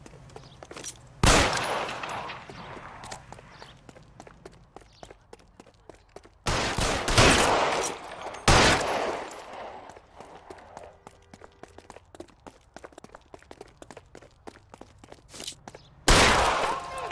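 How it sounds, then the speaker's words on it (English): Gunfire in the L.A. Noire video game: four loud, sharp bursts spaced several seconds apart, with quieter footsteps and scuffling game sounds running between them. "Sabo, stop or I will shoot"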